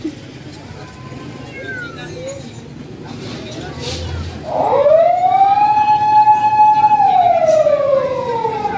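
An ambulance siren wails along a city street at night in Olongapo City, Philippines, rising in and holding a loud sweeping tone over street noise and crowd murmur.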